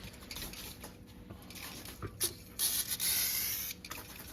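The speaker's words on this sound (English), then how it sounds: "You can hear there's just no pressure left in this can, but it's still like a quarter full." A nearly empty WD-40 spray can with no pressure left, giving weak sputtering hisses in short bursts and then a longer faint spray, close and quiet.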